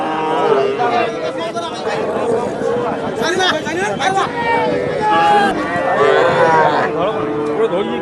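Cattle, including crossbred animals, at a farm or market, lowing and mooing repeatedly amid busy crowd chatter and nearby talking voices throughout.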